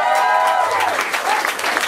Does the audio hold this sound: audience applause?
yes